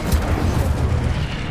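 An Incendio fire spell erupts in the game Hogwarts Legacy as a loud, sustained roaring fiery blast that fills the whole moment, with no talk over it.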